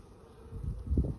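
Honey bees buzz around a nuc hive at close range in a soft, low drone that swells toward the end of a brief moment, with no talking.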